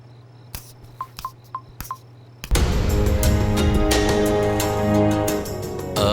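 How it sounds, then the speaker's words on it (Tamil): A telephone is dialed with a quick run of separate keypad beeps over quiet hum, then a loud burst of busy, clattering noise takes over. "நான் வெளியே போயிட்டு ஒரு ஃபோன் பண்ணிட்டு வந்துடுறேன்"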